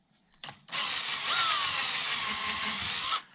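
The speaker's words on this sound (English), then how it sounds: "a little tiny pilot hole to get through the ACM, stainless steel screw, and we're done" A power drill drives a stainless steel screw through a pilot hole in an ACM panel while building a full-height teardrop camper, giving a brief click and then a steady, loud, close whine that runs for about two and a half seconds before stopping.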